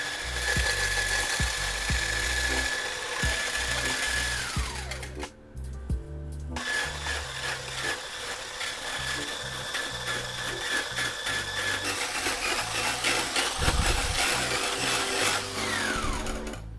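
An electric mixer whipping egg whites and sugar into meringue for a castella cake, whirring loudly and steadily with a rattling motor drone, pausing briefly midway before resuming.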